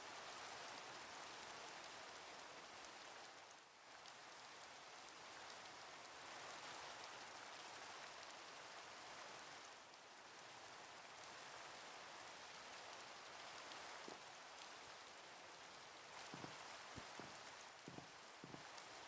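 Steady rain falls in a Minecraft server world, a dense even hiss that carries on throughout, with a few scattered louder drips or knocks near the end and no voices.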